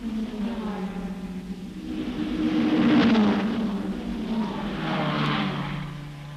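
Ford Mustang rally cars driving in formation during the 1964 Tour Auto in France, engines droning and swelling as they pass by in two rising-and-fading waves, mid-distance, with no voices.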